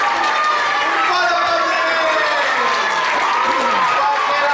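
Loud, sustained applause and cheering from a theatre audience at a Santa Cecília concert in Piera, greeting the winner of a music round; dense, continuous clapping with shouts and voices mixed in throughout.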